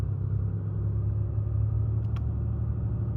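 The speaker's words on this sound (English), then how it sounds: "Can hear it idling up." A Ram 3500 Cummins high-output diesel engine rumbles steadily at close range, a deep, even idle with a slight rise in pace toward 1400 rpm; a couple of faint clicks partway through.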